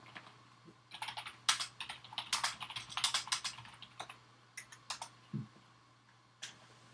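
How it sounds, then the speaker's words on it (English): Bursts of clacking keystrokes on a computer keyboard, quick irregular runs of taps close to the microphone with short pauses between them, over a faint steady hum and with nobody talking. "I'm gonna try typing this in."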